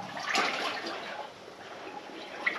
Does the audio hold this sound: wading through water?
yes